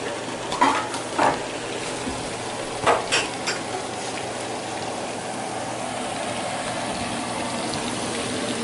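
Chopped shallots sizzle steadily in foaming real butter in a pan, a continuous hiss with a few sharp clinks of a utensil against the pan early on and no talking.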